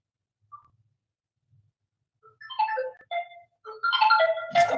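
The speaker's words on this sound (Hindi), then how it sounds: "फोन आ गया यार।" An incoming-call ringtone on a phone starts with a couple of faint blips, then builds into a loud, close electronic melody of warbling tones that grows fuller toward the end, with no talking over it.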